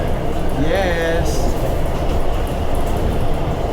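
A Philippine National Railways train rumbles loudly and steadily along the tracks between Ligao and Naga, with a brief squeal of wheels near the start.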